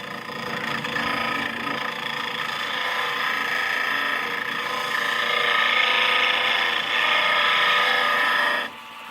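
A lathe tool being resharpened gives a steady, loud grinding whir with a scraping edge that holds for most of the stretch, then drops off sharply near the end. No voices.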